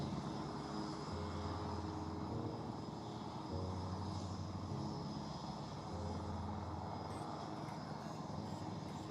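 An aircraft flies at the Aero India air show display. A constant engine roar stays at a steady level, fairly distant and moderately quiet, with low tonal drones shifting in pitch and no speech.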